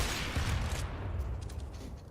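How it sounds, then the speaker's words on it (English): Rapid gunfire during a Counter-Strike esports match, a dense stream of fairly quiet shots with no talk over them. "There's plenty of fire coming his way."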